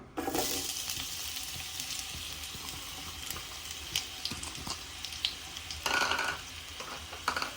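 Onions frying with cinnamon, cloves and cardamom for Chettinad pepper chicken: a steady close sizzle runs throughout, with scraping stirs and a louder burst of crackling near the end.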